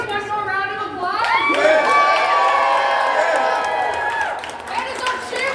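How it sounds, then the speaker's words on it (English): Lively crowd cheering and whooping at a rally, loud and close, with long rising shouts and a few scattered claps mixed in, sustained for several seconds. "Can we get one more round of applause?"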